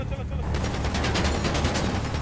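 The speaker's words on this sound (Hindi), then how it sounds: "कौन फायर कर रहा है, कौन कर रहा है" Rapid gunfire in the GTA 5 game during a robbery, a dense stream of loud shots rattling continuously throughout, with a voice speaking underneath.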